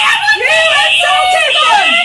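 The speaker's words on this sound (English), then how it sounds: "You can hear her screaming." On police body camera footage, a woman screams loudly and continuously at high pitch with wavering, strained cries, close to the microphone.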